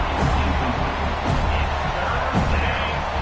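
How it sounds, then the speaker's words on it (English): A dense, steady roar rises from a large stadium crowd at a Canadian football game, loud and continuous with no break and no clear voice standing out. "The roar of the crowd trying to fuel this defense to keep them pinned in their own end."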